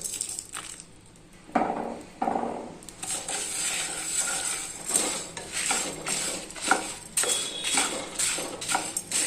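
Sesame seeds being dry-roasted in a hot pan, with repeated close scraping and rattling stir strokes of a spoon against metal and a light crackle underneath, steady and moderately loud throughout.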